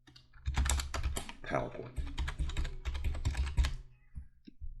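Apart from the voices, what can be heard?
typing on a computer keyboard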